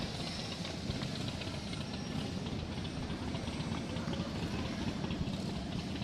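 Motorcycles from a veterans' motorcycle association idle during a Veterans Day parade, a continuous rough rumbling engine drone with knocking texture, steady and moderately distant, with no talk.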